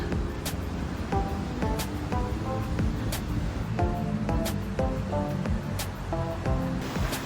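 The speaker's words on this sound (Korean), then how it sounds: "시원하고 물소리 좋고" Continuous rushing water of a valley stream flows steadily throughout, with faint intermittent chirps or clinks rising above the constant wash.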